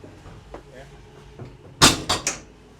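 Aboard the USS New York warship, a heavy metal door bangs shut with a loud, close clank followed by two quick rattling knocks. People's voices are audible in the background.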